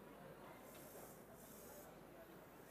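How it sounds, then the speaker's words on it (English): Red makeup is sprayed from an airbrush onto a model's face in a steady, soft, continuous hiss, faint and close. "And I spray here"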